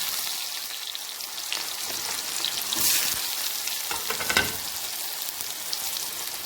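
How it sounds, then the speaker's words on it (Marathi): Chopped onions fry with mustard seeds and cumin for a corn curry, a continuous close sizzle broken by stirring scrapes and a couple of louder bursts. "कांदा छान लालसर होईपर्यंत आपल्याला परतून घ्यायचा आहे"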